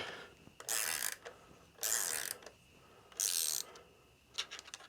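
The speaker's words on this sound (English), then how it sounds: "it's just going to use a ratcheting wrench, a 3/8. hold the screw, turn the nut" A 3/8 ratcheting wrench turns a nut on a Sabre 1438 lawn tractor built by John Deere, giving three bursts of quick close clicking separated by pauses, then a few lighter clicks at the end.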